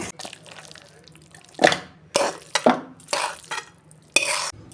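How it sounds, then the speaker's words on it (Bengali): Cooked cabbage curry made with fish heads is poured and scraped from a pan into a serving dish, giving a series of sharp metallic scrapes and clinks separated by brief quiet gaps, close and fairly loud, with no talking. "এই যে ঢেলে ফেলছি।"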